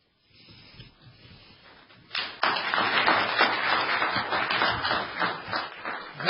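After a quiet, murmuring start, dense applause from the audience at a moot court competition's final round bursts in suddenly and keeps going steadily, loud and full, for several seconds.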